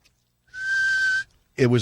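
A single sustained whistle held steady for most of a second, a voice imitating a sibilant S, followed by a brief burst of speech.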